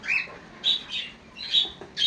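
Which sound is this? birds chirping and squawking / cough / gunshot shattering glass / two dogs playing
birds chirping and squawking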